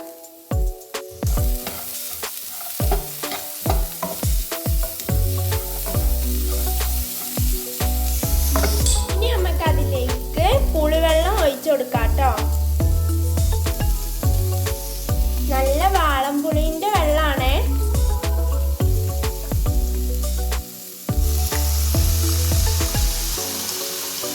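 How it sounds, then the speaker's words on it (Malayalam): A watermelon rind dish fries in a pan as salt is mixed in: a spoon knocks and scrapes the pan in quick bursts at first, then a loud, steady sizzle and stirring carry on close up. "നമുക്കതിലേക്ക് പാകത്തിന് ഉപ്പും ഇട്ട് നന്നായി മിക്സ് ചെയ്യാം"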